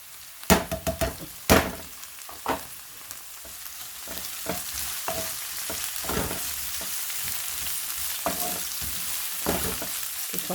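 Carrots go into a hot pan while making chicken vermicelli noodles. A few hard spatula knocks come first, then a steady, close frying sizzle with scattered scraping strokes.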